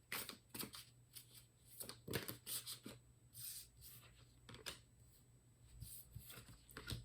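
Quiet, close shuffling of tarot cards, soft riffling and rubbing sounds in short irregular bursts over a faint low hum.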